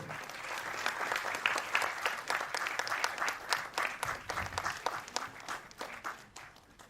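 Sustained applause from an audience at a cinematography masterclass, dense overlapping claps at steady loudness, tapering slightly toward the end.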